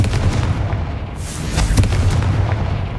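Confringo blasting spell in the Hogwarts Legacy video game, heard as loud, dense booming bursts with rumbling low impacts and a sharp crack partway through, alone without talk.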